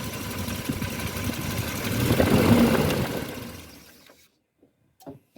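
A car engine with fuel injection idles, then gets a light blip of the throttle so the drone swells briefly before fading out as the engine cuts off after switching from gas to petrol, leaving near silence with a few faint knocks.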